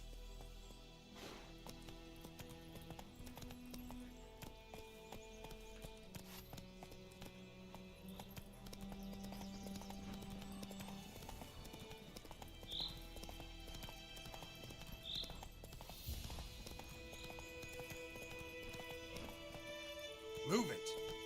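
A horse gallops in the Witcher 3 video game, its hoofbeats a steady clip-clop rhythm throughout, close and fairly faint, over game music with speech at moments.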